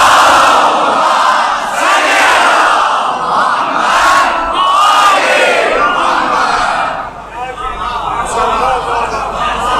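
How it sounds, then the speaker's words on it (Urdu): A large crowd at a Shia majlis mourning gathering loudly recites salawat in unison. Close, powerful waves of massed voices swell and fade in repeated surges, then drop slightly in the final seconds. "بلندر صلوات پڑھیں گے محمد وآلہ۔"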